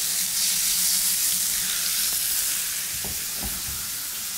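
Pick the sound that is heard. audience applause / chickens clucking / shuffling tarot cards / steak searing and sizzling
steak searing and sizzling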